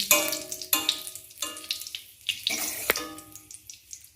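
Slices of pointed gourd (potol) fry in darkened oil in a pan, a close, steady hiss and crackle with sharp spits rising at intervals, and no voices.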